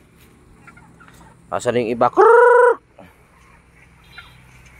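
Farm chickens and a turkey call close by: a short burst of clucking followed by one loud, sustained gobble, with a brief remark from a person just before.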